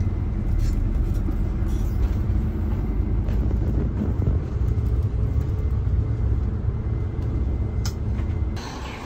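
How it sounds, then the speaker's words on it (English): A truck carrying chickens drives past on a road in Thailand, a continuous loud low rumble and road noise that holds steady close by, then eases off at the end. "Chicken truck."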